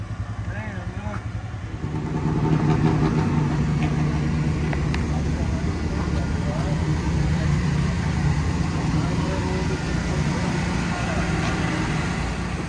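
A late model dirt track race car sits idling, its engine a deep, steady, throbbing rumble that kicks in loudly after a short quieter start and holds close, with a voice talking over it.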